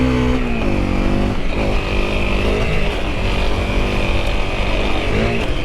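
An off-road motorcycle engine drones loud and steady on a slippery clay forest trail in Wayne National Forest, holding a constant throttle roar throughout.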